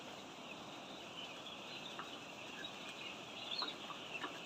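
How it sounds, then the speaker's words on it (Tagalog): Six-day-old broiler chicks fill a brooding pen with a steady, faint chorus of high peeping and cheeping, continuous and distant-sounding, with a few slightly louder chirps near the end and no talking. "ito yung mga alaga natin na chicken broiler na sisiw"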